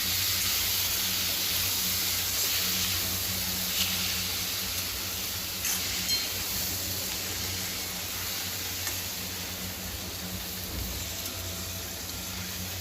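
Tomatoes hiss and sizzle softly as they roast in a pan for paneer butter masala, a steady, moderately quiet frying sound with faint stirring and no talk.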